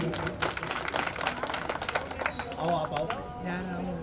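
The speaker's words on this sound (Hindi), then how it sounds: "जोरदार तालियां होनी चाहिए आप सभी की" Applause and clapping from an audience at a Prajapati community donation and felicitation gathering, a broad continuous patter of many hands mixed with crowd voices and talk throughout.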